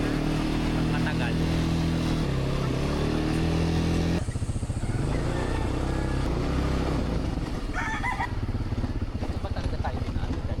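An ATV engine drones steadily during a ride over the hills at Hillscape in Batangas, a continuous loud rumbling hum with slight pitch shifts as the throttle changes.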